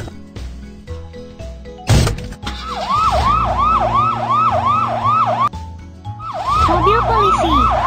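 A cartoonish police car siren from a children's vehicle video game wails in quick, repeating rising-falling cycles, mixed with game effects, a door-like clunk and background music.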